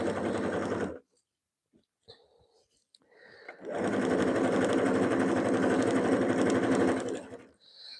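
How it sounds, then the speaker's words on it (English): A sewing machine runs a short back stitch on fabric: a steady, close, loud mechanical whir for a second, a pause with small clicks, then a longer continuous run. "I always like to do a little back stitch here."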